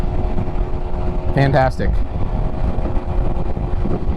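A 2020 BMW S1000RR motorcycle cruising in sixth gear produces a steady, close engine drone with wind rush, continuous throughout, and a rider briefly speaks over it.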